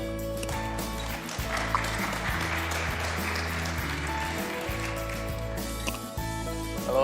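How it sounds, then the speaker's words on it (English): Applause from a conference audience at a blockchain event's main stage, steady and fairly soft over a low droning hum that runs beneath it throughout. "Clap it up, guys."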